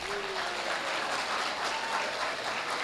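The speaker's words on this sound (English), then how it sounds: "Can we give our Vice Chancellor another applause?" An audience at a university matriculation ceremony claps for the Vice Chancellor, a dense, even wash of many hands applauding without letup.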